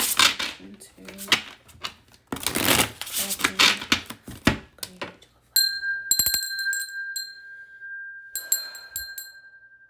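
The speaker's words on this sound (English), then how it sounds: "I guess I rung the bell way too many times for her" A small hand bell is rung over and over in quick, bright clusters, clinking with a glassy ring among louder bursts of talk, then ringing alone with a sustained tone lingering toward the end.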